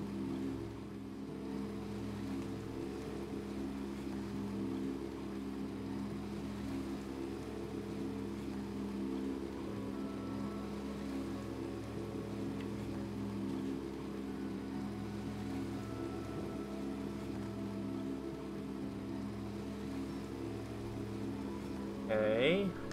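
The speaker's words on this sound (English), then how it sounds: "Got a running engine, but I need to lower the boat." A boat engine idles in the video game Unravel, a steady low droning hum that runs unbroken throughout, with a brief higher sound near the end.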